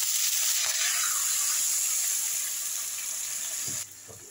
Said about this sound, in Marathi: टाकल्यावर मी 1 कपभर पाणी टाकते त्यामध्ये.